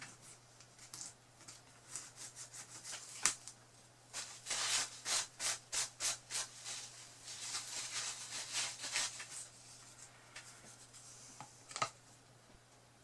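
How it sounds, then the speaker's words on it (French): A hand file rasps along the edges of a homemade jesin phone holder in a close, rhythmic series of short strokes, some quick runs of about a dozen rubs, with no talk. "je vais devoir limer beaucoup plus"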